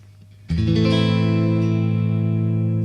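An electric guitar rings through an amp with the treble and bass raised, the mids slightly cut and reverb added. A single chord is struck after a brief pause, then sustains loud and full, shimmering as it slowly decays.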